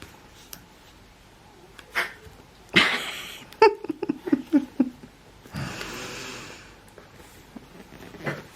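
A pet named Effie with mud up her nose snorts and snuffles close by, a few sharp wet bursts followed by a longer breathy blow.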